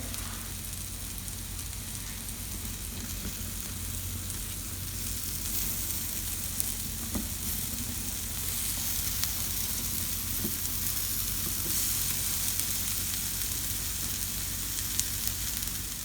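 Garlic bread pieces sizzling in a pan, a continuous even crackle held for the whole stretch, close and moderate, with a few faint clicks and no talking.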